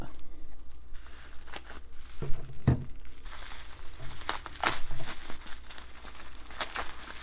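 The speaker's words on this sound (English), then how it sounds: "Let's go ahead and cut this tape." Packing tape on a mailed package holding a graded Pokémon card is cut and peeled, giving close crinkles, tearing rasps and several sharp snaps at intervals.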